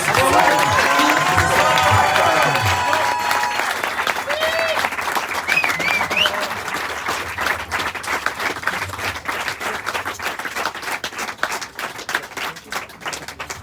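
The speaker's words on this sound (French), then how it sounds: "Applaudissements s'il vous plaît pour Max" A crowd applauds Max, winner of the V and B Monbana cycling race finish in Mayenne, with loud dense clapping that gradually thins and softens, cheers and voices mixed in.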